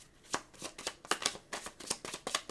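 Tarot cards being shuffled and drawn by hand, a quick run of crisp riffling and slapping bursts close by, with no voices.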